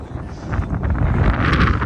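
Wind buffeting a microphone outdoors, a loud, rumbling low-frequency roar with gusty fluctuations that continues throughout, close and dominating the sound with no voices present.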